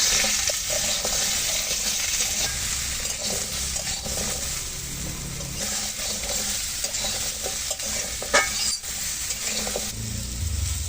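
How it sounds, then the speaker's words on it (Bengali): Potatoes and vegetable stalks fry in oil in a pan, a steady sizzle under repeated scraping and stirring, with a few sharp utensil clinks against the pan. "আলুগুলো দিয়ে একটু ভালো করে ভেজে নেব।"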